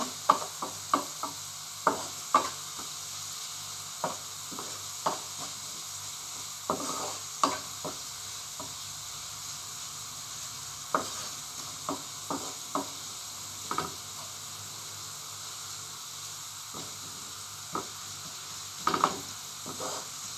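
Spices and turmeric frying in a pan for a jute-leaf and red lentil dal: a steady sizzle runs throughout, broken by scattered sharp clicks and scrapes of a spoon stirring against the pan.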